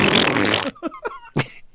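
A loud, sputtering fart from an elderly woman at a kitchen sink, one long blast followed by several short, squeaky bursts, nearby and with no talking.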